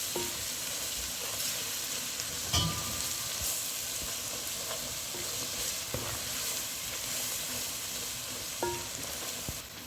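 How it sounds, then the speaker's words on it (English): Biryani spice, turmeric powder, black pepper and mixed masala fry in a pan for a mutton curry, giving a steady low sizzle with occasional scraping taps of stirring, close and unbroken. "So let all this fry"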